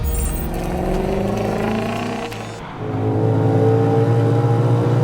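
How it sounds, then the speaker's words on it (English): A Ford Mustang GTD engine revs hard and close, its pitch climbing, briefly dropping off, then surging back into a loud sustained roar. "I mean, it kind of sounds like a Mustang"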